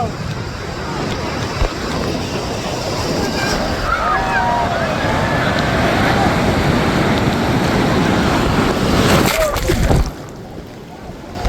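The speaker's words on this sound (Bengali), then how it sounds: "এখন আপনাদের দেখাবো সমুদ্রের ঢেউ কত কত হতে পারে" Ocean surf rolls continuously at Sugandha beach in Cox's Bazar. The loud, roaring wash of waves carries strong wind buffeting and faint voices, then eases near the end.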